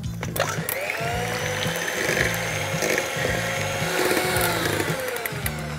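A kitchen blender whirs steadily while mixing eggs with sugar and vanilla sugar, a loud continuous motor drone with a pulsing, churning texture throughout and no voices.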